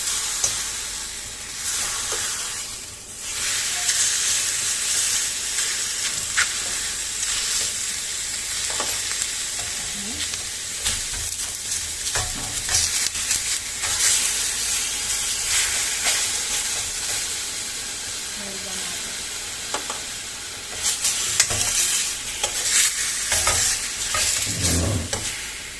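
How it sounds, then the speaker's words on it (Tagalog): Garlic and parsley fry in olive oil in a stainless steel pan, producing a continuous close sizzle with crackling bursts and occasional stirring scrapes, with no one talking. "I make my olive oil with garlic and parsley."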